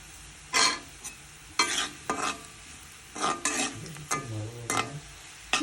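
Spoon stirring in a pan of hot oil with nigella seeds, heard as several loud, close scraping strokes over a soft sizzle, with brief clinks between the stirs and no speech.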